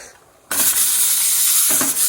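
Pressure cooker releasing steam in a home kitchen: a sudden loud hiss bursts in after a quiet moment and keeps going steadily, close and dominant, with a brief dip near the end.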